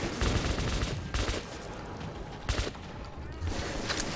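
Bursts of AN-94 Kalashnikov-variant rifle fire in Metro 2033 Redux sound as several rapid, loud, close volleys separated by short pauses.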